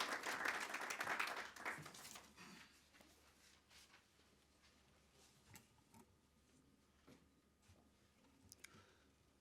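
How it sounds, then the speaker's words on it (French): A burst of clapping from a crowd at a formal signing ceremony at the start, fading quickly into scattered claps and quiet room noise. "Des applaudissements, s'il vous plaît."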